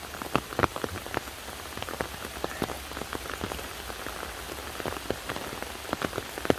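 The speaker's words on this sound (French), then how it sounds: "Il pleut vraiment très fort." Rain pours hard outdoors during a picking trip, drops striking close surfaces in irregular crisp taps over a continuous hiss of downpour, with no one speaking.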